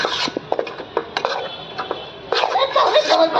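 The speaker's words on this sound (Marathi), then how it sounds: "आणि करतोय कोलंबी मस्त मिक्स करून घ्यायचं आहे" Prawn masala with turmeric and garam masala is stirred in a pan, giving close scraping and clattering of a spoon against metal in irregular strokes, busier toward the end.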